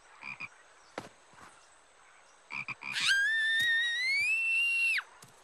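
Cartoon bullfrogs croak in short, separate low bursts, and then a long rising whistle-like tone holds for about two seconds before cutting off, with no talk.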